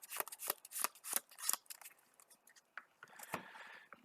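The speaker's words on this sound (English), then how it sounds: "Shuffling the rest of that Nemesis set here into the encounter deck." Playing cards from a Marvel Champions game being shuffled into the encounter deck: a quick run of crisp, close riffling snaps and taps, then softer scraping handling sounds, with no voices.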